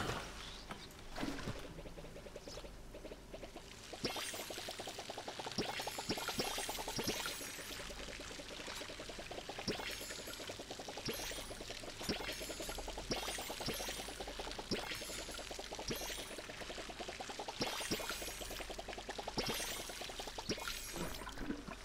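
Crops being watered in the farming video game Palia, a faint, steady pouring and splashing of water with repeated light ticks and soft chirps behind it, no talking.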